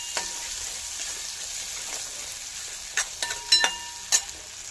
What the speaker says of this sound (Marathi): थोडासा टमाटर घालायचं, जास्त नाही. चांगलं थोडासा परतून घेतो.